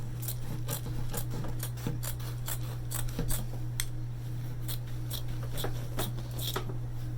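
Scissors snip through fabric in a series of short, irregular cuts while a heart shape is trimmed out, each crisp snip close and clear over a steady low hum.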